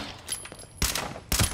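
Bursts of automatic gunfire in Fallout 76, fired at the player, arrive in two loud broadband volleys with quieter crackle between them.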